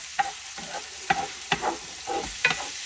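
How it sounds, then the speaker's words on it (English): Red onion, garlic and sausage sizzle in a pan while a utensil scrapes and stirs in quick, regular strokes, each scrape standing out clearly above the steady frying. "So we got red onion, we got garlic, and we have sausage. We're just gonna let all that cook up nice."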